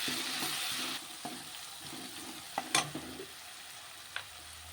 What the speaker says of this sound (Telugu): ఇది పచ్చివాసన పోయేంత వరకు ఇలాగా ఫ్రై చేసుకోవాలి.